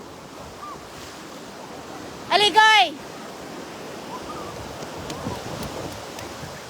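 Waves washing up on Boracay beach, a steady soft surf wash throughout, briefly interrupted by a short loud shout from a nearby person.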